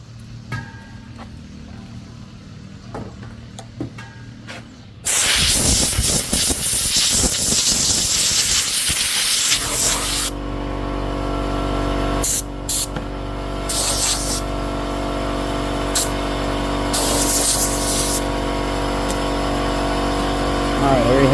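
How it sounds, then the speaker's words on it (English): Loud, steady rush of air from a blower clearing dust off a workpiece freshly shaped with a router and template, switching on abruptly and running continuously with slight shifts in tone. "Let me get the blower real quick."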